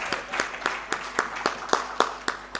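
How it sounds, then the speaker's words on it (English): Steady, evenly spaced claps, about ten in under three seconds, from an audience at a memorial lecture, crisp and fairly close with no talking over them. "Please clap for us."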